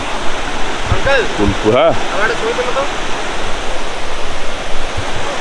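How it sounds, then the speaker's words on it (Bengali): A mountain stream fed by a waterfall near a hanging bridge and homestay on the Silk Route in Sikkim, flowing steadily as a continuous close rush of water, with a person talking over it partway through. "ওই ওপরে পাহাড় থেকে আসছে, এদিক পাশ দিয়ে একটা ঝর্ণা আসছে, এই জল"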